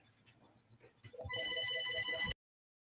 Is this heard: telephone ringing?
yes